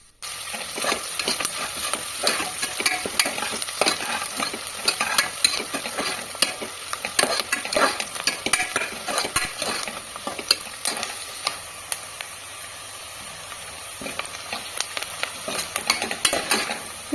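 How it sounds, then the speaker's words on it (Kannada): Onions fry in a pan ahead of a turkey roast, a steady sizzle broken by frequent sharp clinks and scrapes of a metal spoon stirring against the pan, close and fairly loud throughout. "ಈರುಳ್ಳಿ ಎಲ್ಲ ಚೆನ್ನಾಗಿ ಫ್ರೈ ಆಗಿದೆ"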